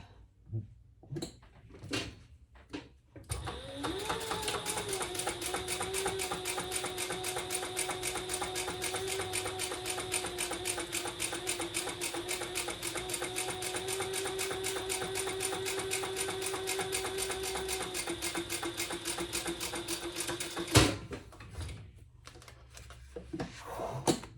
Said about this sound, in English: we're going to sew that together at that 3/8 inch seam allowance.